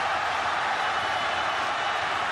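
An arena crowd at a ONE FC 171 event in Qatar roars in support of fighter Joshua Pacio, a dense, sustained wash of cheering with no breaks.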